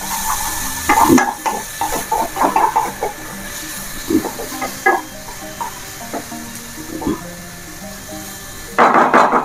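Tomatoes being stirred in a hot pan on a gas stove for a chhatu mushroom masala curry, with soft sizzling under scattered utensil scrapes and taps, and a louder burst of frying near the end.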